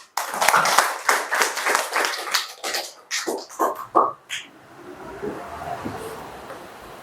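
Students in a Grade 7 classroom clap together in a burst of claps lasting about four seconds, loud and close, then fade into quieter room noise and scattered claps.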